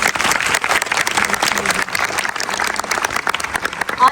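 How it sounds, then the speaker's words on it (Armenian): A large audience in a big hall applauds, dense continuous clapping filling the whole stretch at an even, fairly loud level. "Ուզում եմ շատ բարձր ծափահարենք մեր Լիոնի հանդիսատեսին"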